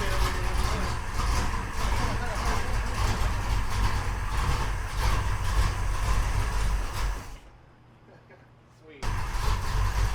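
An Oldsmobile 442 engine running loud on its first start, a dense roaring rumble that fills most of the stretch, cuts out briefly, then returns just as loud.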